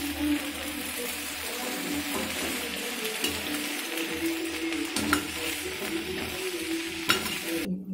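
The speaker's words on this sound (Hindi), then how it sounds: "परवल और आलू और प्याज अच्छे तरह से इसमें फ्राई हो जाएंगे" Pointed gourd, potato and onion frying in a pan while being stirred, with a continuous loud sizzle and repeated spoon scrapes and clinks.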